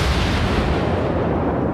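Warship guns firing in the naval video game World of Warships, a loud, heavy, continuous roar of booming artillery with no talking over it.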